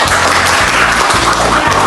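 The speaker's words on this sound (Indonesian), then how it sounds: "Oke, tepuk tangan." A burst of applause fills the space, many hands clapping densely and loudly throughout the short stretch.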